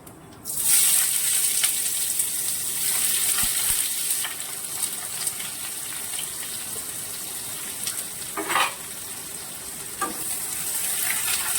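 Chopped onion dropped into hot oil in a pan, crackling and sizzling loudly from the first second, with scattered clicks and stirring scrapes over the continuous hiss.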